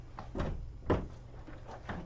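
A door is shut during a school committee meeting, giving a single dull thud near the middle of a quiet room with faint background murmur.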